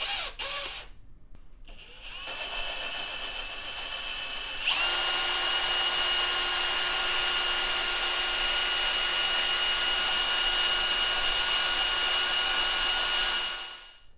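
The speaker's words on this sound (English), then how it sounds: "did that a couple more times with the drill" A power drill spins an engine valve against its seat during valve lapping, whining steadily and loud, briefly stopping and restarting before settling into a long sustained run that cuts off at the end.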